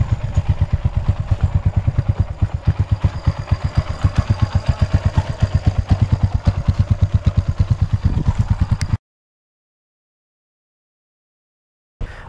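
A Kawasaki motorcycle engine runs close by with a fast, even, clattering pulse for about nine seconds, then cuts to silence before a brief burst of sound at the end.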